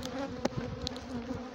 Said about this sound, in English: Oh, Africanized bees look great,